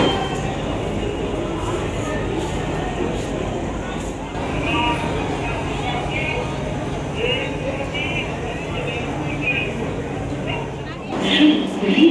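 A train arriving at New Delhi railway station, with a steady low rumble and rolling rail noise throughout, a few faint metallic clinks, and station crowd chatter in the background.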